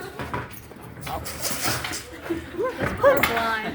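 A police K-9 unit dog gives short, high whimpers and whines mixed with close-by human chatter and a soft knock.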